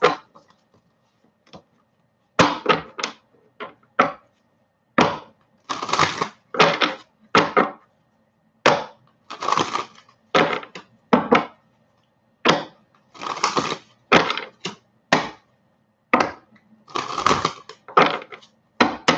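Crisp bursts of tarot cards being shuffled and riffled, irregular snapping flurries separated by short silences, close up and with no talking.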